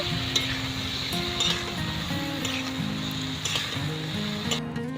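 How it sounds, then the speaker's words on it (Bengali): Pieces of drumstick, potato and bitter gourd fry in a pan, giving a moderate, continuous sizzle under repeated stirring scrapes and occasional clinks of a utensil against the metal. No talking is heard. "সজনে আলু আর করলা দিয়ে দিলাম এবার খুব ভালো করে নেড়ে নেবো"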